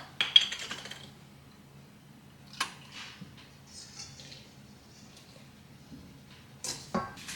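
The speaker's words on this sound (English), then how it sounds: "now we have all our dry ingredients and we're just gonna mix that all up" Dry chocolate cake ingredients stirred in a bowl, with soft scraping and scattered clinks of a utensil against the bowl, quiet and close, broken by a few sharper knocks and taps.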